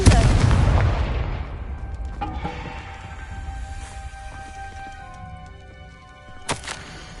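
A Confringo blasting spell erupts in a Harry Potter video game, a loud booming explosion that fades slowly into a long rumbling tail, followed later by a smaller sharp burst.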